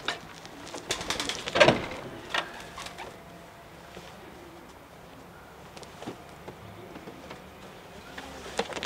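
Young pigeons coo softly in a loft, with a few low murmuring calls and faint rustles, quiet and close, while brief scattered clicks and buzzing sounds appear now and then.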